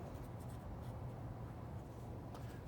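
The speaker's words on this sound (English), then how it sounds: "So I'm going to write that down." A pen or pencil scratches across paper while working out trig functions, a soft continuous rasping close by and faint throughout, with no talking.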